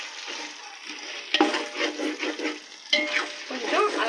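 Tomatoes frying in hot oil for Andhra-style country chicken biryani, a steady close sizzle with scraping stirs and two sharper clatters of a spoon against the pan, no voices.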